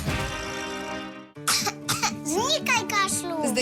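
Music cuts off, then a run of harsh, dry coughs follows in quick bursts, close and loud, with short gaps between them.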